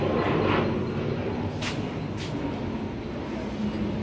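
A train pulls into a station with a steady, heavy rumble that fills the whole stretch. A couple of brief hissing bursts rise above it, and no one talks.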